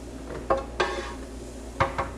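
In a home kitchen, cooked mushrooms are moved into a container, giving a few light clinks and clatters of utensil against dish, scattered and close, with no talking.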